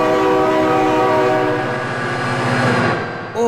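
A loud, sustained train horn blares over the heavy rumble of a passing train in the BeamNG Drive driving game, the horn holding steady for most of the moment before fading near the end.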